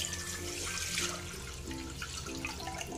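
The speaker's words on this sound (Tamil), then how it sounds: "நம்ம எடுத்து வச்சிருந்த பால் சேர்த்துடலாம்" A steady stream of milk pouring and splashing into a pot nearby, continuous and moderately quiet, with no voices.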